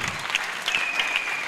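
Applause from a crowd of children and adults at a Christmas Bible quiz, a steady patter of clapping hands sustained throughout, fairly close and alone without talk.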